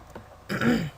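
A single short, rough dog cough or hacking sound, close and fairly loud, after a moment of near quiet.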